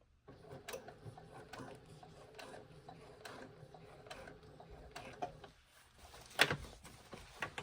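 Sewing machine stitching slowly around a jeans hem, producing soft, irregular mechanical ticks and clatters at low volume, with a sharper knock near the end.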